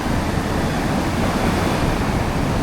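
Loud, continuous surf rolls onto a beach in Bali, a dense, unbroken wash of crashing waves with some wind buffeting.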